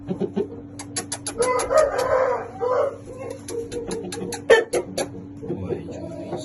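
Champion roosters and chickens cluck and crow close by, with repeated sharp calls over a steady low hum and a faint voice now and then.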